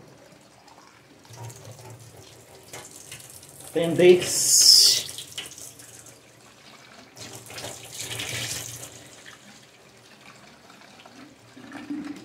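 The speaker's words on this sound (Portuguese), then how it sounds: "Eu jogo tudo fora e coloco uma água nova." Water runs from a kitchen tap into a pot, rushing loudly in a burst near the middle and running more softly elsewhere, with someone speaking briefly around it.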